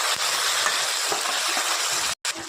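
Spiced potatoes and dried fish sizzle in a pan while being stirred, with repeated scraping strokes of a spoon over a continuous frying hiss and a brief silent break near the end.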